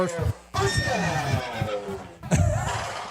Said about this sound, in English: You hear that neigh, everyone at home?